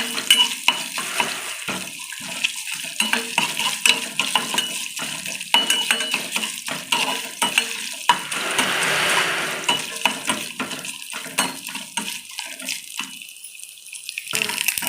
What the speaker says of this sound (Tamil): இப்போ வந்து முந்திரி பருப்பு தேங்காய் நல்லா நமக்கு வந்து வறுத்தாச்சு.